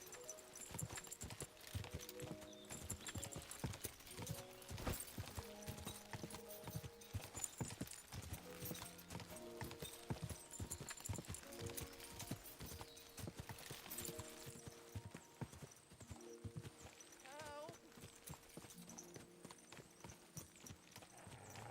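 Rhythmic clip-clop of horse hooves in the video game Kingdom Come: Deliverance II, steady and fairly close, running throughout over a light musical background.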